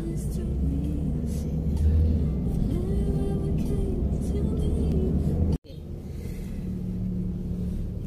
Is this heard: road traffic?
yes